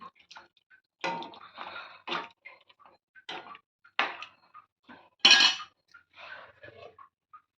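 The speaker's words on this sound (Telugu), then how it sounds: "సావుడు ముక్కలండి ఒకసారి గరిటతో తిప్పుతానండి" A ladle stirs fish pieces in a cooking pot, giving scattered metallic clinks and scrapes in irregular bursts, close and fairly loud against quiet gaps, with no talk.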